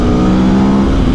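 A 2021 Aprilia Tuono V4 Factory engine revving, a loud close steady mechanical drone with a strong low tone, brief and unbroken.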